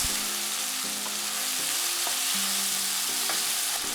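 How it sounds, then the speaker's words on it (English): Green beans and red pepper sizzle and crackle while being stir-fried in a pan for Thai basil chicken fried rice, a steady close sizzle with light scraping from stirring. "Add the green beans and the red pepper. Stir for 1 minute."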